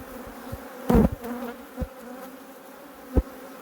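Honey bees buzzing around an opened hive colony, a low steady hum with a few louder close passes and brief knocks of handling.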